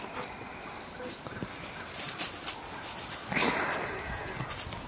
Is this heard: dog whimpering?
yes